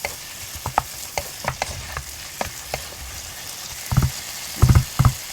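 Hotdog pieces fry in a pan while making Filipino-style spaghetti, with a soft steady sizzle and scattered scraping stirs that grow into louder clatters near the end.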